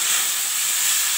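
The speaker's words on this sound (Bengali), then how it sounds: "এবার ফোড়নটা দিয়ে দিচ্ছি, পাঁচফোড়ন দিলাম" Panch phoron, the Bengali five-spice mix, hits hot oil with a loud, steady, close sizzling hiss that holds without a break.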